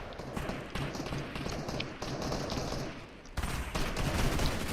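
Dense, rapid gunfire in a video game, with rattling bursts of shots continuing without pause and growing louder toward the end.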